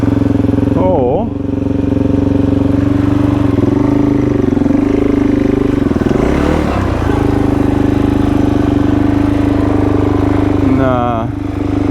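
A dirt bike engine runs steadily on a hard Sydney motorbike trail, loud and close, with a constant mid-pitched drone, a brief rev near the start and another at the end, while someone talks over it.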